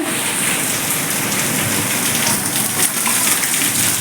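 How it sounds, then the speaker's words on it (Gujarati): Steady rain pours down in a dense, even hiss, with a close patter of drops hitting a surface throughout. "વરસાદ ચાલુ છે"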